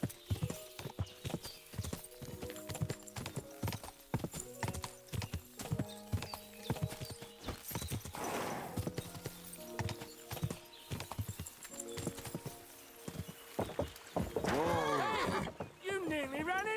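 A horse gallops in Kingdom Come: Deliverance 2, its hooves beating a fast steady clip-clop with a neigh near the end, while someone speaks over the riding.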